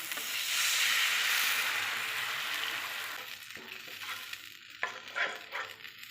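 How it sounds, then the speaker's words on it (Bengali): Water poured onto spices and tomato frying in oil in a pan for an eggplant curry gives a loud burst of hissing sizzle that gradually fades, followed by quieter bubbling with a few clinks, with no talking. "এবারে জল দিলাম।"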